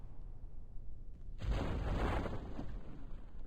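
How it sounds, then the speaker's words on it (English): A low, heavy boom bursts in suddenly partway through and rumbles on as a broad, sustained roar, loud and close, an explosion in Kerbal Space Program with no talk over it. "I heard the explosion."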